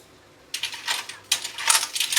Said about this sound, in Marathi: आता याच्यामध्ये आपण शिमला टाकणार आहोत.